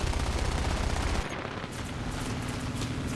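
Rapid 50 cal machine gun fire from a Pe-2 bomber in War Thunder, a dense loud rattling burst that cuts off after about a second, leaving engine and wind roar.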